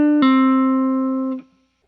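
A single plucked guitar note rings out as a fretting finger pulls off the string, sustaining clearly for about a second before being damped, alone with no talking.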